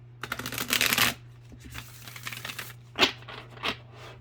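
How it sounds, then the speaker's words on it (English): Oracle cards are shuffled in quick riffling bursts, a longer flurry followed by a few shorter ones and separate taps, close and fairly quiet. "So I'm just gonna shuffle them a couple more times."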